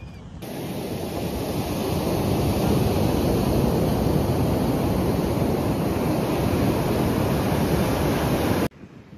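Ocean surf on the Konkan coast of India, a steady roaring wash of breaking waves with heavy wind rumble on the microphone, loud and continuous for the whole stretch before cutting off abruptly.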